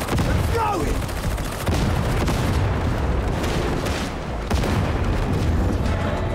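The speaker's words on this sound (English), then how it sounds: "Grenade front!" A grenade blast in the co-op shooter Warhammer 40K Darktide, booming amid heavy, continuous gunfire and crackling volleys, loud and chaotic throughout.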